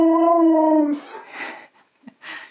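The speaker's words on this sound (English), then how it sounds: "barking" A husky lets out a single long, wavering howl up close, followed by a few short breathy huffs and yips.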